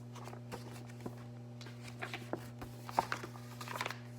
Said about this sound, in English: They heard footsteps in the hall.